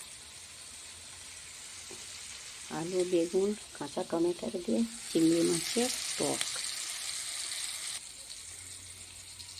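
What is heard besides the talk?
onions frying in oil in a pan, after frying prawns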